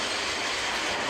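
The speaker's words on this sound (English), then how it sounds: "You see the terminal line on the microexpress network and the steam train." A Big Boy steam locomotive runs on a model railway, giving a steady, close rolling rumble and rail clatter that continues evenly throughout.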